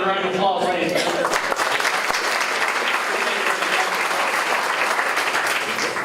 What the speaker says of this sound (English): Let's give them another round of applause, ladies and gentlemen.